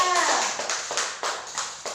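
Children in a classroom clap for a classmate, a handful of sharp claps in an uneven rhythm, close and moderately loud, fading toward the end.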